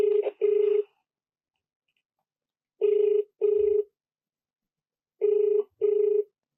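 A telephone rings out during a call, three double-ring bursts evenly spaced, clear and alone with silence between them.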